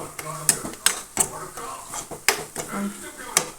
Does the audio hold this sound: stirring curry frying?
yes